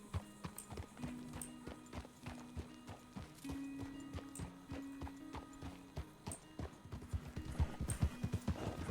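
Hooves clip-clop steadily at a walking pace in RedM, a Red Dead Redemption 2 roleplay game, close and fairly quiet, with a horse's low whinny sounding intermittently beneath the footfalls.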